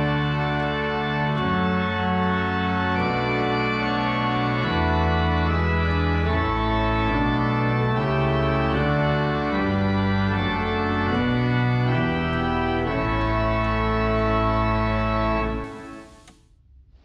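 Church pipe organ with swell and great stops coupled (eights, fours, twos, mixtures and cornopean, swell box half open) playing full sustained hymn-style chords, loud and steady, then cutting off at the end.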